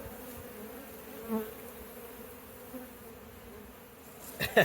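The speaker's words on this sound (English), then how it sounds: "Now to get the rest of these bees into the box." Honey bees buzz steadily in a low, droning hum close by, with a few louder passes and a brief rustle near the end, on a warm day around disintegrating honeycomb.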